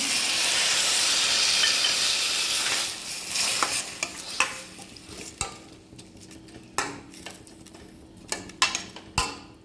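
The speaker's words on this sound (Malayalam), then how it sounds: "ഇനി രണ്ട് മിനിറ്റ് ഇളക്കിയതിന് ശേഷം ഒരു ഗ്ലാസ് ചൂടുവെള്ളം ഒഴിച്ച് കൊടുക്കുന്നുണ്ട്" Masala curry is stirred in a hot pan; a sizzling fry hiss fades into a series of sharp, irregular spoon scrapes and knocks against the pan, close and clear with no talking.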